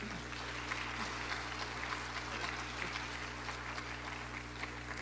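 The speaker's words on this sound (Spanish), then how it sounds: "Vamos a brindarle un fuerte voto de aplausos a este joven talentoso, músico puneño, Erickson Lucho Mamani Valeriano." An audience at a congress claps after a talk, a moderate wash of applause sustained for about five seconds over a low steady hum in the room.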